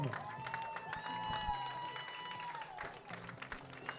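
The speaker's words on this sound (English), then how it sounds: "But a round of applause for Joyce Dole and a happy belated birthday." Crowd applause at a Staunton Braves baseball game against the Covington Lumberjacks after a ceremonial first pitch, scattered clapping and cheering in an open stadium, moderately distant, with an announcer's voice and tonal music over it.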